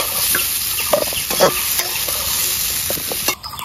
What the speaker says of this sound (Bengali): এঁচোড়টা ভেজে নেব। কষিয়ে নিলাম